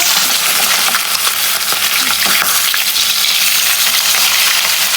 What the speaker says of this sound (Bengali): মাছগুলো উল্টে দেবো।